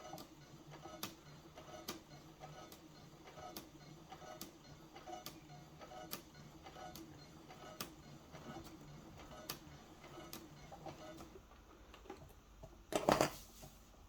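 Sewing machine stitching bias tape onto a vest, a faint, regular ticking of the needle at about one stroke per second, ending with a brief louder clatter, no voices.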